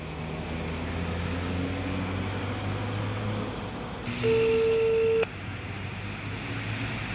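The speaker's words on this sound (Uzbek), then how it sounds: "Chaqiryapti." A phone ringback tone sounds once for about a second, a clear steady beep standing out over a constant low background rumble.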